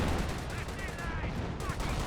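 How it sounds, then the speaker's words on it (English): In the Company of Heroes video game, an artillery barrage rumbles on as a dense, continuous roll of booms and crackling fire that stays loud throughout. "Here's some sort of artillery barrage somewhere."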